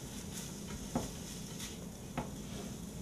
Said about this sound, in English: So we're just browning our sausage up here